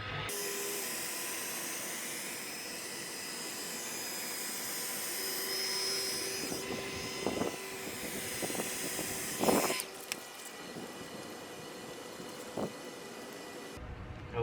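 A heat gun blows a steady whining hiss while warming the adhesive on a vent visor of a 2019–2021 Toyota RAV4, with a few handling knocks near the end before it cuts off.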